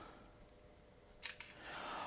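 A phone camera snapping a photo of a grimy BBC Master 128 computer keyboard: a faint room hush broken by two quick, crisp shutter clicks close together.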